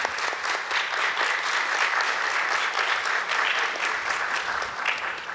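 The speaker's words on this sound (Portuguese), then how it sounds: "Queria pedir uma salva de palmas" Steady applause from a crowd at a university philosophy week opening ceremony, dense overlapping claps sustained at an even level throughout, with no talking.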